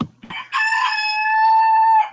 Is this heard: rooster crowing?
yes